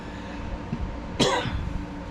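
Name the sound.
coughing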